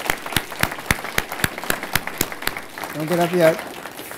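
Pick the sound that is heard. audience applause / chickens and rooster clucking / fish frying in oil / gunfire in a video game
audience applause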